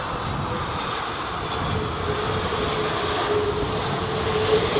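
A jet airliner lands at Heathrow in stormy weather, producing a steady, moderately loud engine roar with a faint whine, holding fairly even throughout with a slight swell near the end.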